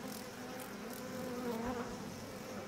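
Dense locust swarm buzzing drones steadily in Outlast 2, a thick swarm-like hum with wings whirring, fairly quiet and without pause.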